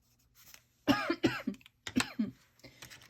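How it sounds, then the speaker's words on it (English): A dry cough comes close and fairly loud as a few separate harsh bursts, some grouped in quick pairs, with short quiet gaps between them. "I have this annoying dry cough now"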